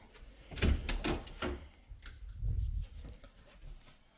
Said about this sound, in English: Double doors.